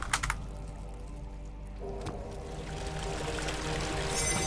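Water from a bucket pours into an open pipe in a video game, a steady splashing stream that builds gradually louder, starting with a few sharp clatters.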